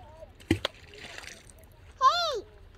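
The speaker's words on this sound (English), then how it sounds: "Surface that is kind of muddy, it makes a satisfying sound when you hit it hard enough" An object is thrown hard into a muddy creek surface at a campground, making a sharp splash and slap, followed moments later by a second wet slosh, while a person talks nearby.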